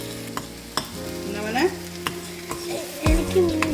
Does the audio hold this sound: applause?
no